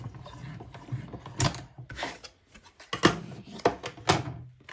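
A die cutting machine for cardmaking is lifted and set down on a craft table, giving a series of close, sharp mechanical clunks, rattles and knocks separated by short pauses.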